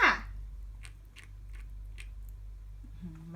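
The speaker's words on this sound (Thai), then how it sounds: "กัดฟันใส่อีก" A fat pet animal lying in a hay feeder grinds its teeth, giving a few soft, brief gritty crunches at a slow uneven pace, close but quiet over a low steady hum.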